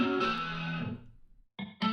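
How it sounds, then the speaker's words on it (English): Electric guitar chords run through a heavy distortion effect in a music production, with a thick, buzzing chord sustained and then fading out, then a brief silence before two short distorted stabs cut back in. "when you have like a distortion like this"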